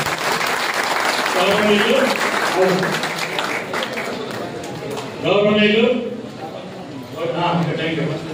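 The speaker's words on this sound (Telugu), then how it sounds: "మనందరం కూడా అత్యంత గట్టిగా చప్పట్లు కొట్టి ఆశీర్వదించారు" An audience at a Vishwabrahmana community association function in Vizianagaram district claps loudly and steadily, with voices speaking over and between the bursts of applause.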